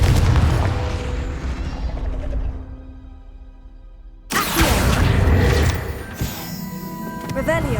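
A Confringo fire spell in the Hogwarts Legacy video game bursts with a loud booming explosion, then a second blast hits after a brief quieter stretch, with a shouted incantation over the game sounds.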